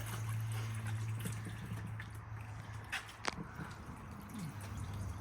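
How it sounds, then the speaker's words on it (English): Hot, dirty engine oil drains out of a Lamborghini Gallardo, a soft steady trickle and patter of liquid with a low background hum and a few faint knocks. "The oil is pretty dirty, so let's drain it out."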